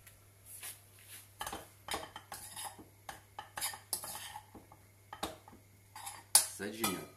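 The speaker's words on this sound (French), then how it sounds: "Je prends ma petite assiette." A small plate and cutlery clink and clatter in a home kitchen while a stuffed pepper dish is plated, with scattered sharp knocks and scrapes over steady background hum and a few quiet voice fragments.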